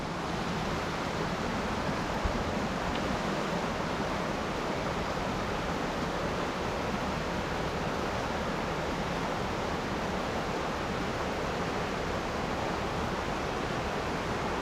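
A small feeder creek on a mountainside runs hard after a flash flood, giving a steady, dense rushing roar that holds unchanged throughout with no voices.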